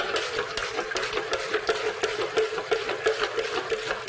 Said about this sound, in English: So let's stir again, just to make sure.